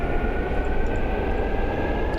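A large airborne early warning and control aircraft with a big radar dome takes off from Yellowknife in a naval combat game, a steady loud engine roar with a faint high whine throughout.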